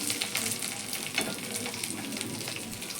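Onions and a single potato frying in a pan, giving a steady, close crackling sizzle with small pops and occasional stirring, no voices over it.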